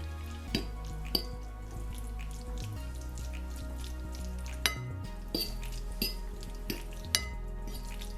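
Pasta being mixed into a cheesy sauce in a pan, a soft, low bubbling sizzle with occasional wet clicks and spoon taps, close and fairly quiet, without any voice.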